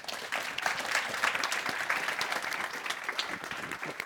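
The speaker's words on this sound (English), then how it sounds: "please give an applause to Julien." An audience at an academic economics conference and award ceremony applauds, a dense, steady patter of many hands clapping together at moderate distance, with a faint voice underneath.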